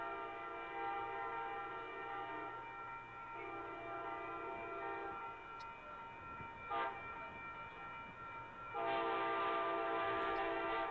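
An Amtrak train horn sounds for a grade crossing, sustained chord-like blasts held for long stretches and swelling louder near the end as the train closes in, with no talk over it.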